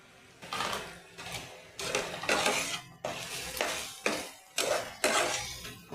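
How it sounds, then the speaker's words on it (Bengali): Peas being stirred with a utensil through ground chilli, turmeric, cumin and coriander powder in a cooking pan for an egg curry, giving repeated scraping strokes in a steady rhythm of about one every second, close and fairly loud with no talk. "মশলাটা ভালো করে কষিয়ে নেব।"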